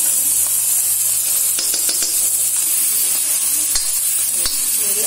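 Onions frying and being stirred in a pan for a Punjabi dum aloo, with a steady sizzling hiss, occasional utensil scrapes and clinks, and a faint voice in the background.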